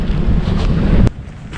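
Strong wind at a lakeside state park campsite buffets the microphone with a loud, rough roar, then drops off abruptly to a lighter gusting rush, with no voices.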